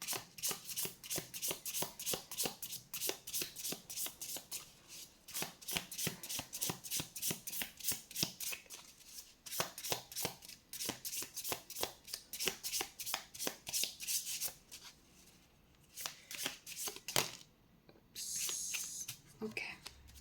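Tarot cards being shuffled by hand, a close, soft but steady run of riffling and flicking strokes that carries on for many seconds, with a brief breathy pause near the end.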